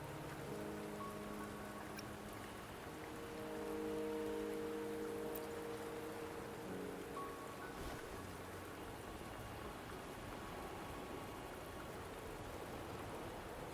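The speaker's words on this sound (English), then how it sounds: "Don't worry, the rain won't last much longer." Rain falls steadily in the Wuthering Waves game, a continuous soft patter and hiss of drops on surfaces through the whole stretch, with no one talking.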